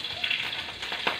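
Dried fish frying in a pan gives a steady, close hiss and sizzle, with a few faint crackles and stirring touches over the short stretch.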